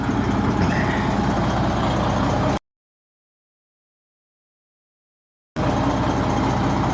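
A truck idles while stopped in traffic in Rayland, Ohio, a steady low engine rumble close by that cuts out completely for about three seconds before returning just as loud.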